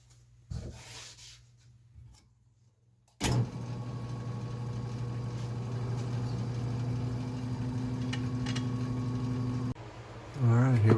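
A wood lathe motor spins at about 684 RPM while turning a natural-edge sissoo platter, starting after a quiet moment with a steady close hum and rubbing whir, then a short spoken voice near the end.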